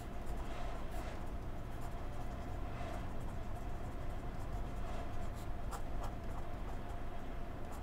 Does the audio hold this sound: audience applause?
no